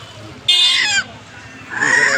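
Chickens at a rural country-chicken (deshi murgi) market in Bangladesh give a couple of short, loud squawking clucks close by, set against crowd murmur.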